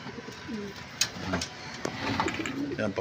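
Soft cooing of racing pigeons close by, with a few wing flaps and clicks, while a person calls out short words.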